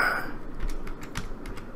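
Keys tapped on a computer keyboard while a name is typed in, a quick run of light clicks at close range with no talking.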